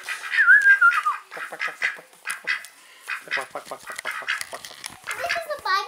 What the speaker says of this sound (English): This is a baby duck.